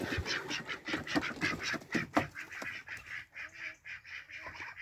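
Several ducks quack in a busy, overlapping chorus in a poultry house shared with chickens, close by and fairly loud, with a few honking calls mixed in.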